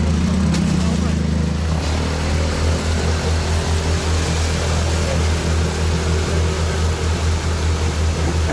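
A tractor's engine drones steadily as it drives into and floats through a swamp, a low, loud, continuous rumble close by, with a brief higher whine at the start.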